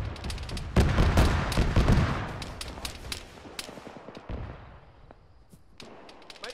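Gunfire crackles in the military game Arma during a dusk battle, a loud burst of overlapping shots and booms early on, then scattered sharper cracks trailing off into quieter distant fire.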